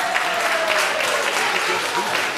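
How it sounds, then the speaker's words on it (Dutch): Audience applause at a kids' talent show during a 2012 summer festival in Ertvelde, a dense, steady wash of clapping lasting the whole stretch, with a voice faintly mixed in. "geef ze daar een applaus"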